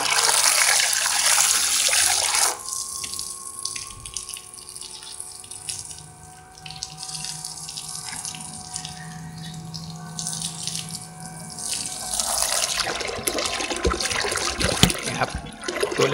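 Water spraying from a 15-metre hose on a solar-powered submersible pump, a steady hissing rush that softens in the middle as the spray shifts, then swells again, close by.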